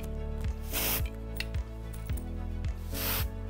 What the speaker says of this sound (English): You can then go through with a little bit of texture spray.